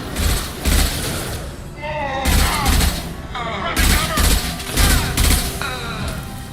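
Bursts of gunfire from Mass Effect 2 Legendary Edition come in heavy, repeated volleys with thumping low-end impacts, close and loud, while voices talk over the firefight between the bursts.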